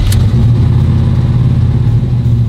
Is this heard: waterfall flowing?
no